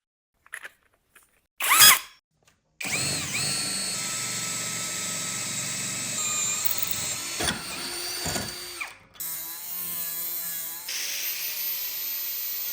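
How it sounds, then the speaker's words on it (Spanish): A 40 mm hole saw drilling a hole through the centre of a metal stove lid, with a sustained whirring, grinding drill drone running for about ten seconds after a few short bursts, then a brief pause and the cut resuming. "Con una corona de 40 milímetros de diámetro, perforaremos un agujero en el centro."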